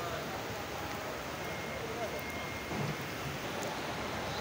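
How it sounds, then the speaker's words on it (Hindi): Rain falls at Masjid an-Nabawi in Medina as a faint, steady hiss of drops on the surfaces. The wash continues evenly throughout, with no clear talking. "ये बारिश के कतरे हैं मदीने वाले के।"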